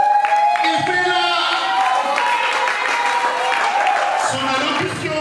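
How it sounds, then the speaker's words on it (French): An audience claps and cheers at an NGO launch ceremony, steady applause filling the room while a voice speaks over it. "Son allocution mérite l'applaudissement, mesdames et messieurs."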